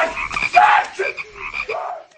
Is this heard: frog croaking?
yes